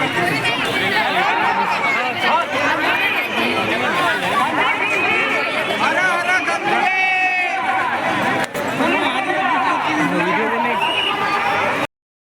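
Packed general-class train coach bound for the Mahakumbh, filled with dense, steady crowd chatter. Many overlapping voices form a loud, continuous babble that stays close throughout, then cuts off abruptly at the end.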